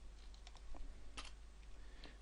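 Keystrokes on a computer keyboard as a line of code is typed, a handful of quiet, irregular clicks spread across a soft steady background hum, with no talking.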